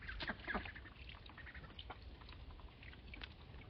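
A single farmyard duck quacking in faint, rough bursts, close but quiet, repeated irregularly against low background noise, with no talk.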